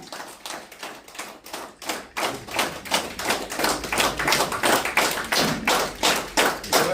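Rhythmic, steady hand clapping from an audience, close and fairly loud, starting unevenly and settling into a regular unison beat that keeps going throughout.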